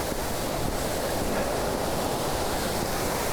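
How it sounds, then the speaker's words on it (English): Water and ice pour over a small dam spillway in a steady, dense, close rushing roar with no pauses and no voices. "There's plenty of water coming over, and of course, ice."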